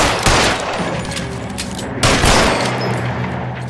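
Bursts of gunfire from the LA Noire video game, a loud volley near the start and another around the two-second mark, with sustained crackling shots and echoes in between and no talking.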